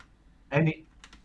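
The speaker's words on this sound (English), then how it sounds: "Sorry, Modlin, you're hammering on the keyboard" A short burst of hard, heavy typing on a computer keyboard, loud and close, lasting about a quarter second, followed by a couple of faint lighter clicks.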